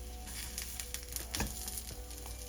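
Soya tikki patties frying in oil in a pan give a soft, continuous sizzle with faint crackles, steady and fairly quiet throughout.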